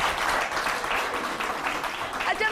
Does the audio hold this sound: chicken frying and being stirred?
no